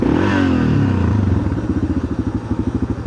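A Yamaha XT600 motorcycle engine revs high close by, then drops into a steady, lumpy single-cylinder idle with an even pulsing beat.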